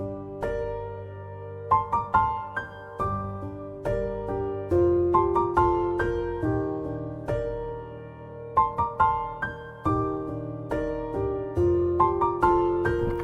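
Grand piano from the Fracture Sounds Midnight Grand Kontakt library on its default preset, playing chords with a melodic line above, notes struck in clusters and left to ring and decay, steady and close with no voices.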